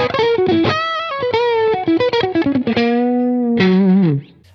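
A Schecter Nick Johnston electric guitar on its fourth pickup position through a tube screamer plays a quick run of picked single notes that slides down and ends in held, bending tones, loud and up close.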